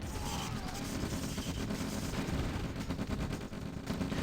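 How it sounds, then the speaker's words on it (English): V2 rocket launchers fire in the real-time strategy game OpenRA amid a dense, continuous battle din of gunfire and blasts, with a voice faintly present beneath the noise. "V2 firing again"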